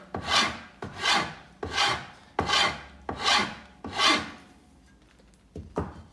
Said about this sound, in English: if your only tool that you have available is a rasp, then that's the way we go